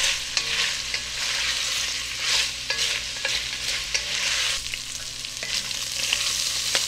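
Polish kielbasa sausages and onions fry in a pan with a loud, constant sizzle, punctuated by regular clicking spatula stirs and scrapes throughout, with no talking.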